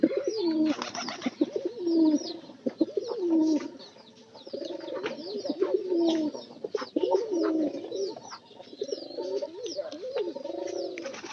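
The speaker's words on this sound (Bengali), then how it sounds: "পায়রা এলো" Pigeons coo steadily and close by in repeated throaty rolling phrases, with a few brief chirps and small knocks scattered through, no voices present.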